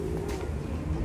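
Pigeons coo by the clock tower in an outdoor city square in İzmir, a short low warbling call heard once over steady background murmur.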